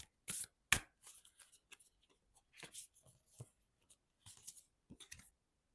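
Starseed oracle cards being shuffled close up, quiet intermittent riffles and soft flicks in short bursts separated by near silence.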